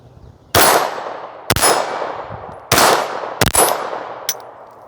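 A Glock 45 MOS pistol fires four sharp shots at irregular intervals, each a loud crack ringing off with a metallic clang, with a fainter click between shots and no speech.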